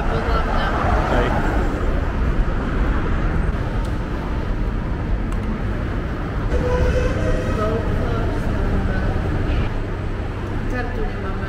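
A Doha Metro train in Qatar rumbles steadily with a dense low roar and rattling, heard from inside or close by, with voices talking over it.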